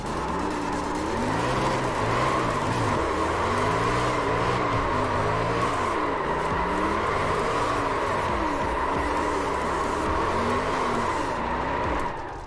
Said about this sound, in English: That was like the worst burnout I've ever had in my entire iRacing career.